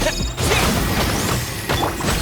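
A wind blade attack in Genshin Impact lands with sharp crashing impacts and swishing bursts, loud and close, a few hits over a couple of seconds.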